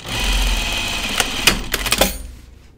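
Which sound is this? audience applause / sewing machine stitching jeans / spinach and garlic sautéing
sewing machine stitching jeans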